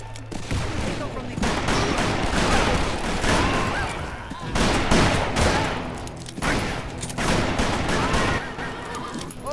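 Dense, continuous gunfire from the Western shooter video game Call of Juarez: Bound in Blood, with rapid overlapping shots and louder bursts filling the whole stretch as loud, busy game audio.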